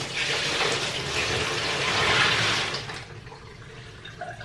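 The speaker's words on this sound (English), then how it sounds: "Let me pour this water in here." Water poured into a portable washer, a loud, steady gushing splash close to the microphone that lasts about three seconds and then tapers into quieter trickling.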